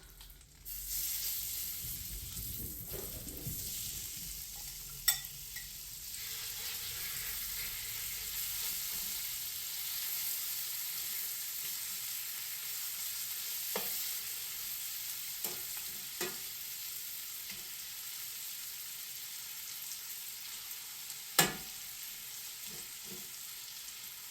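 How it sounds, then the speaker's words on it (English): Meat browning in a pot, turned with tongs, gives a steady soft sizzle throughout, broken by a few sharp metallic clicks and scrapes spaced well apart. "I am going to go ahead and brown my meat first and get this all cooked up in here"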